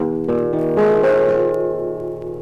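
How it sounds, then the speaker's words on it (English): Guitar strings with a capo raised half a tone, strummed and picked up close, a bright short phrase that rings out and fades, with no voices. "I'll put a capo on the neck of the guitar"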